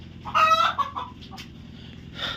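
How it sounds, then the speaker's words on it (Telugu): Farm hens, some sitting on eggs, give a few close, loud clucks, then quieter scattered calls over a low background murmur. "సో చూడండి మన కోళ్ళు అయితే ఎలా పొదుగు కూర్చున్నాయో"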